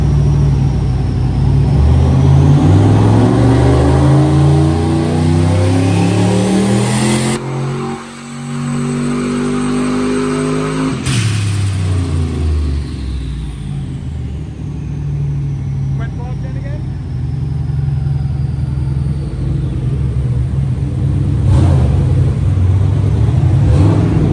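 A turbocharged LS1 stroker engine on a dyno revs up hard through rising pitches, cuts off briefly, then roars again, loud and close, with a voice under the noise.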